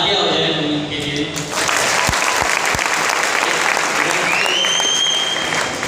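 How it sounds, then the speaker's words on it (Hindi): Loud, sustained applause for the hosts at a live event, a dense wash of clapping from a crowd, with a voice over a microphone and a few sharp low thumps partway through. "तालियां हो जाए उनके लिए।"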